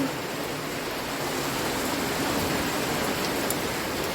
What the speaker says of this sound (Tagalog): ang super lakas ng ulan.